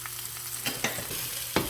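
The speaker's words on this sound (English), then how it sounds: "You don't have to sear it very long either." Meat searing in a hot pan, a steady low sizzle with a few sharp crackles and pops rising above it, close and fairly quiet with no talking.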